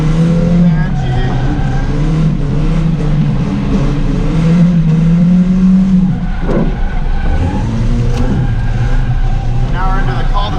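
A cheap old Volvo is driven hard in first gear on big tires while street drifting, its engine holding a loud sustained rev that rises and dips, with tire squeal and the occasional voice heard over the roar.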